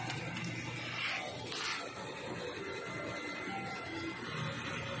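An inkjet printer runs its head cleaning cycle, a steady mechanical whir and hum that holds for the whole stretch, with a brief rise in hiss partway through and no voices.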